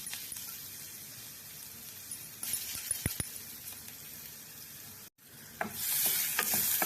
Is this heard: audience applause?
no